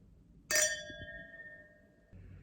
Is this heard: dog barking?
no